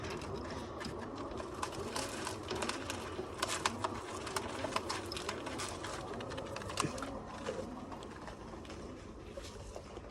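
Pigeons kept in a rooftop loft coo softly amid a busy, rustling background of fluttering and small clattering sounds, with no talking.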